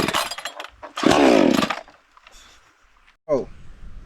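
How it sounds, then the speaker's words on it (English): A gasoline chainsaw being started outdoors: a long loud burst of engine-like noise, then a quieter gap and a second short burst near the end, with a voice heard briefly at the start. "You ever see me start a chainsaw?"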